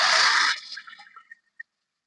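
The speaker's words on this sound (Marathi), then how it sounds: "त्यामध्ये आता आपण गरम पाणी ओतून द्यायचं" Hot water pours into a spiced curry base with coriander powder, a bright splashing rush for half a second, then trickles and a few last drips fade into silence.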